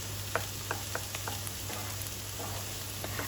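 Bulgur wheat vermicelli sautéing in a pan gives a soft, steady crackling sizzle with light scraping stirs at irregular intervals, fairly quiet and close.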